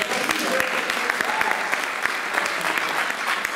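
A church congregation claps for the Lord in a dense, steady round of applause with sharp individual hand claps standing out, continuing evenly throughout with faint voices mixed in.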